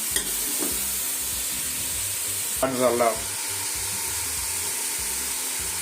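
Chicken in a pan with chopped and whole green chillies and tomatoes, sizzling steadily under a low hiss, with a brief clatter of stirring midway; no talking.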